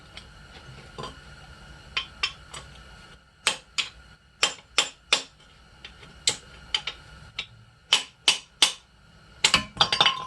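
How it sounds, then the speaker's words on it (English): Sharp metallic taps from a small hammer working a strut bearing on a 2011-17 Chevrolet Caprice, struck singly and in quick pairs at an uneven pace, close and clear against a quiet background. "My little cute hammer."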